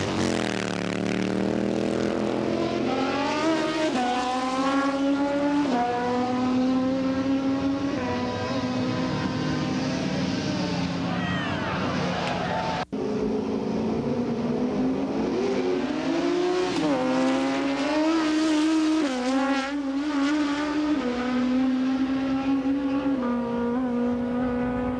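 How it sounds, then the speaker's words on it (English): Drag bikes roar down a quarter-mile strip in a bracket race, engines screaming through rising gear changes one after another, loud and close for the whole stretch with a brief gap mid-run and no talk over them. "Here's more two-wheeled excitement, the Drag Bike Bracket."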